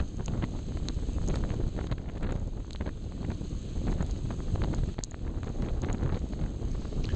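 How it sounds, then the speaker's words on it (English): Strong storm wind roaring continuously across the microphone while cycling in the Pennines during Storm Dennis, loud and buffeting with no let-up. "the wind hits you like a brick wall"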